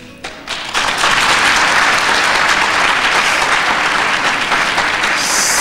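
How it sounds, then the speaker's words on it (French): A lecture-hall audience at a university faculty's back-to-school assembly breaks into loud, sustained applause, dense steady clapping filling the room for several seconds without any speech. "Cela mérite des applaudissements"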